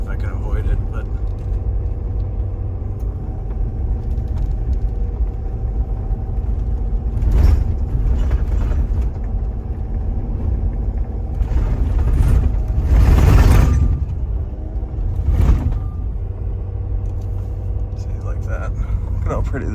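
A four-wheel-drive vehicle drives a wooded track to a repeater site in October, giving a steady low engine rumble with louder surges and bumps, a voice faintly present over it.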